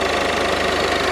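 A Citroen DS3 1.6 E-HDI diesel engine with a failed turbo runs with the turbo pipes removed, giving a loud, close, steady knocking clatter at idle.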